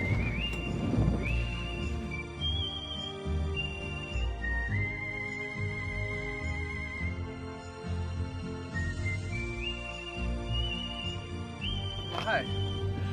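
A horse at Fort Davis, Texas whinnies in rising and falling cries while its hooves clop nearby, with people talking close by.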